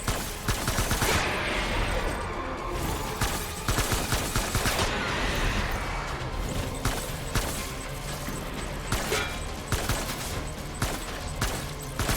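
Continuous gunfire in the video game Death Stranding: dense, loud bursts of rapid shots and automatic fire crackle nonstop for the full stretch, close and harsh.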